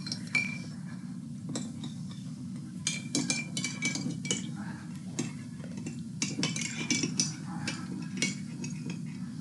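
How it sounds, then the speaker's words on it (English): Salt being stirred into a liquid to dissolve it, with repeated light clinks of a utensil against a container over a steady low hum, close by and fairly quiet, no voices. "I'm going to start by dissolving some salt into my liquid. Give that a mix to make a solution."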